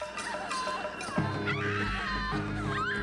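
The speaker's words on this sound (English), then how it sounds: "Somebody's helping her scream." Woman screaming in a werewolf horror film, with rising and falling high wails over a dramatic music score and a loud low hit partway through.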